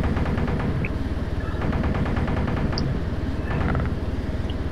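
A helicopter gun in a flight combat game fires in long, rapid, continuous bursts, a loud mechanical rattle of closely spaced shots that runs almost unbroken.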